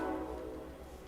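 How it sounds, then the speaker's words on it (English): A train out beyond a riverside watercolour painting session sounds a brief low horn blast with rumbling rail noise, fairly distant and steady. "Boy, what's going on with the trains out there today?"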